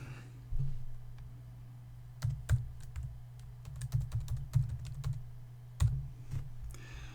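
Fingers type a project name on a computer keyboard in short, irregular bursts of close, crisp key clicks over a steady low hum, with no talking.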